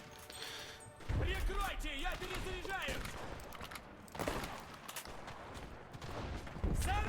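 Gunfire in Enlisted during a Battle of Berlin match: scattered sharp reports and cracks from some distance, mixed with clanking mechanical game sounds and a voice talking over much of it.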